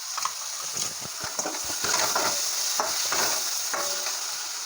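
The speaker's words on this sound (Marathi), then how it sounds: "मसाले सगळं मिक्स करून घेऊया तेलात चांगले फ्राय करून घेऊया" Spices and chopped tomatoes fry in hot oil for a potato bhaji, a close sizzle with quick scraping and tapping from a stirring spoon in uneven bursts.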